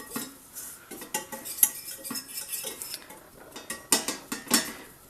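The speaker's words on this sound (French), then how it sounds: "J'ajoute donc les 40 g de farine, mélanger" Flour stirred into melted butter in a pan to make a lightly toasted roux, with brisk, close metallic scraping and clinking of a utensil against the pan in quick irregular strokes, alone without talk.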